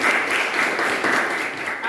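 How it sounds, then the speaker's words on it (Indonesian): A classroom of students breaks into applause, a dense, steady wash of clapping that holds at even loudness for about two seconds. "Oke, tepuk tangan."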